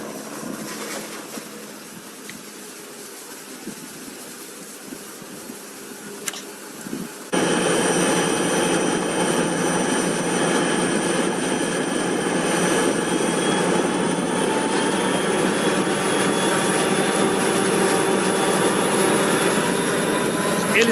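Three locomotives at the rear of a heavy freight train accelerating on a steep compensated grade, a loud steady engine drone rising suddenly partway through and holding strong to the end.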